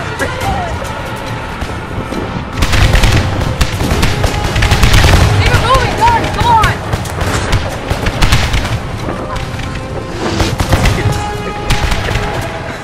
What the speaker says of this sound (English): they're bombarding us again!